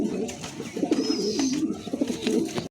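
A young male pigeon at a pigeon sale coos close by in repeated low, throaty rolling phrases, with faint background noise between the calls.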